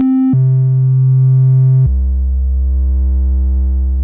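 A Roland System-8 synthesizer oscillator set to a triangle wave plays a held tone that steps down twice in pitch. Each step is louder and deeper, with soft odd harmonics above a strong fundamental, and no talking.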